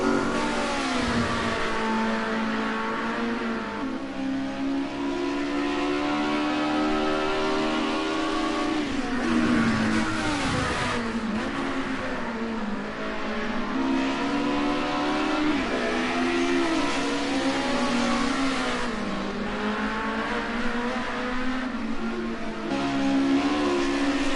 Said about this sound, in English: We'll watch Johnny B in the Cosworth, which should be starting near the front of the grid tonight